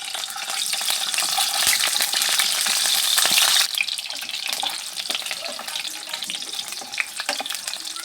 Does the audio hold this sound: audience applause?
no